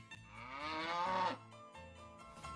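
A single cow gives a long, rising moo that swells and then cuts off, faint and recorded alone with a few quiet knocks afterward.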